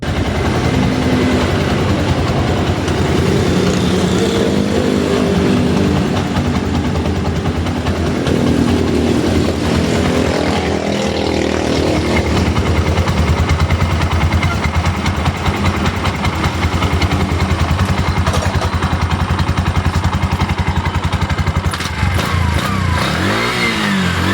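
A Bajaj RE engine, just repaired for an unsteady idle, idles steadily and loudly up close, a constant rumbling chug that holds even for the whole stretch with no talking.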